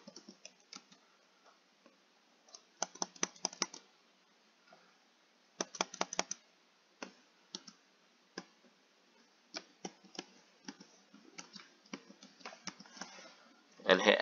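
Typing on a computer keyboard while entering an exploit search command, close, crisp key clicks in short bursts and scattered single taps, fairly quiet.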